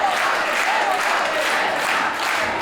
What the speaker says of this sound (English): Very supportive crowd for Senza Volto